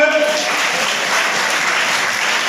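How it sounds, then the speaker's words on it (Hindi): Loud, dense audience applause at a village gathering with speeches and honours, steady and close, with a brief voice at the very start. "जोरदार तालियों से स्वागत।"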